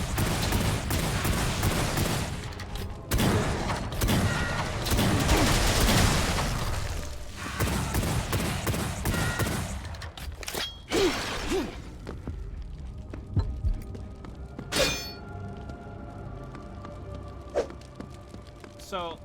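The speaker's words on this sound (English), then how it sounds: "It's the boom, click, click, boom, click, click, boom, click, click that happens over and over" Doom 2 shotgun in a video game, blasts and crashing gunfire over dense game noise for about ten seconds, then thinner scattered shots and clicks as the action dies down.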